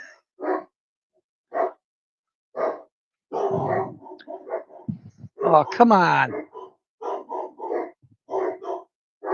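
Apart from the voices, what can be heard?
dog barking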